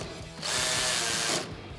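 Power driver with a T15 Torx bit tightening screws on a Chevrolet Silverado 2500 front bumper, a single brief whirring burst of about a second rising over low background hum, close and fairly loud.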